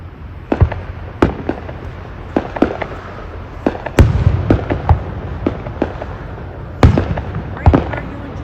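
Fireworks go off in a loose, irregular series of sharp cracks and bangs, some close and loud, others fainter, with brief crackling tails between the reports.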